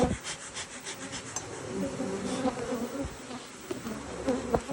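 Dense, steady buzzing of many honey bees swarming close by at a crowded hive in hot, muggy weather, a continuous hum with individual bees droning past.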